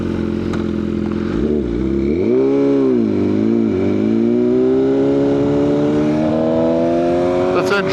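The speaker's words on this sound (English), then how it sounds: "What are you guys' thoughts on the aero exhaust, the full titanium? How's it sound?" BMW S1000RR superbike with a full titanium Arrow exhaust revving and pulling away, a loud close exhaust note dipping, then climbing steadily, with someone talking over it.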